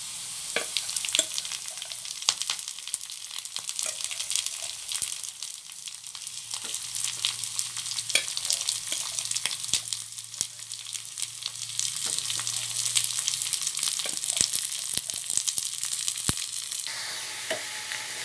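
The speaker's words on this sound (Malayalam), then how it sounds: "ഇനി നമുക്ക് ഇതിലേക്ക് ചീര ഇട്ട് കൊടുക്കാം." Spinach tossed into a hot pan with onion and green chilli sizzles and fries steadily, with scattered crackles and stirring clicks, close and fairly loud, no voices.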